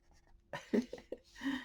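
Quick strokes of a coloring pencil scratch across paper, a few short scrapes in an irregular rhythm, close and quiet.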